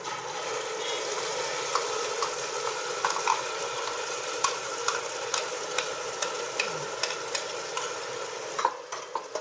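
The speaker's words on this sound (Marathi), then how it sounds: "आता हे चांगलं तेल सुटेपर्यंत असं परतून घ्यायचं आहे बरं का करपू द्यायचं नाही बरं का हलवत राहायचं" Ground masala sizzles and fries in hot oil for kat vada, a continuous crackling hiss broken by scattered sharp clicks and scrapes of the spoon stirring the pan, close and steady without speech.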